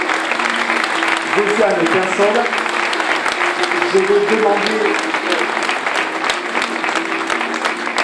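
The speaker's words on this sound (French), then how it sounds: "On peut là aussi applaudir très fortement" An audience claps loudly and steadily throughout a medal presentation at a town's New Year reception in Tarnos, with a speaker's voice continuing over the applause.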